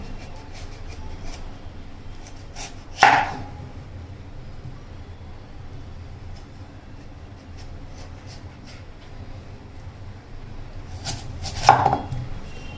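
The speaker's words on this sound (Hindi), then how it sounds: "अब बटाटे को हम लंबाई में काट लेंगे" A knife cuts through potato lengthwise on a board, giving two sharp, isolated chops several seconds apart over a quiet room background.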